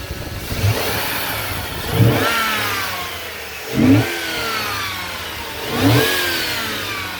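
Engine of a rusty 2002 Dodge Dakota pickup revving, three or four throttle blips rising and falling over a steady idle, close and loud.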